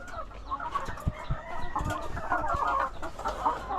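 Chickens on a small farm cluck continuously and close by, a busy overlapping chorus of clucks with a brief crowing note among them.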